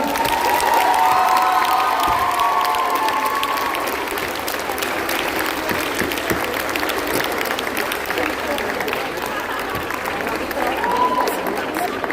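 A final round of applause for a cosplayer at a cosplay contest at Japan Châteauroux 2025, a loud sustained crowd clapping with cheers and shouts, whistles or squeals near the start and voices under it.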